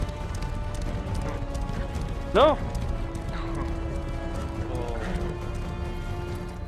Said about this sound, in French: Ouais, trop bien les chevaux, ouais.